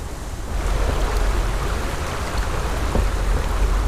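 Water rushes down a river beneath a shelf of ice, a loud, steady broadband roar of flowing torrent that holds constant throughout with no voices.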